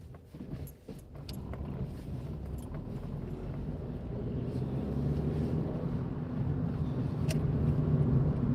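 A BMW car passing on a road during a drive, heard as a rising steady engine and tyre rumble from inside a moving car, with a few brief clicks early on.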